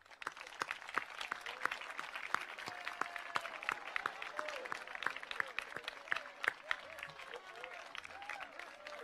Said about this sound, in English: join me in a round of applause to those who have helped you along